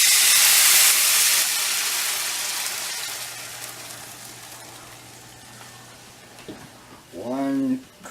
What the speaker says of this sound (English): Now we must add the 4 cups of water.